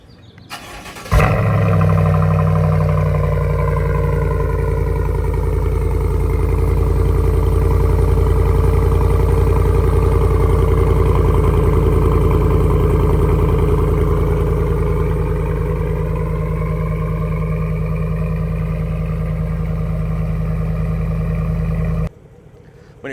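A long travel 2020 GMC 1500 pre runner truck starts up and its exhaust settles into a loud, steady, close idle with a deep droning rumble that holds for about twenty seconds before cutting off.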